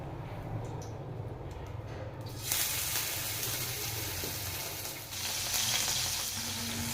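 Fish frying in hot oil in a pan gives a steady, close hiss of sizzling that swells louder partway through and keeps on continuously without any talking.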